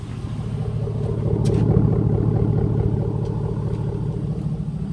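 Truck engine idling steadily after a tune-up, a close, even low rumble with a constant beat that holds at the same level throughout, with no talking.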